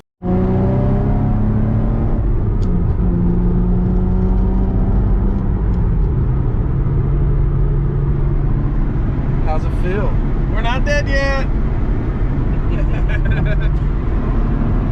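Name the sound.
driving a totaled Subaru SVX car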